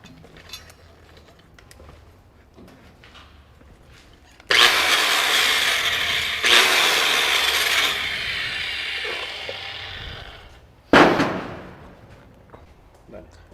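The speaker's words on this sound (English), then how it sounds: "We're gonna go ahead and wire wheel that" A power wire wheel cleaning a 7018 overlay weld, a loud, harsh grinding rasp that runs for several seconds, drops briefly, resumes and fades, then a short final burst. Someone talks faintly around it.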